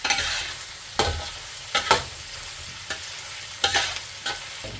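Spoon stirring ingredients in a cooking pan while making arroz caldo with pork intestines, a low sizzle running throughout and a handful of sharp scraping clacks spaced unevenly across the stretch.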